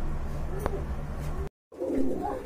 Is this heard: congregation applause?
no